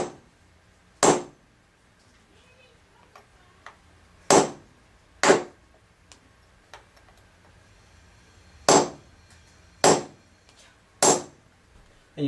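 A nail set pushing finishing nails into a wall border: six sharp, isolated tapping strikes spaced irregularly a few seconds apart, close and crisp against near silence.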